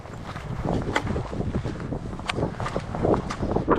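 Wind sweeps across a canyon peak at night in the Santa Catarina canyons, a steady close rush of breathy noise with small gusts rising and falling throughout, no voices.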